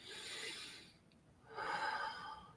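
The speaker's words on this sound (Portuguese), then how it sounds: "se eu faço uma respiração profunda" A person draws two long, deep audible breaths, the first a steady inhale, a brief pause, then a louder, fuller intake of air, close and alone.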